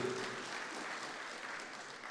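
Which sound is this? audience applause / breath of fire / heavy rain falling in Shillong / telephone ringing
audience applause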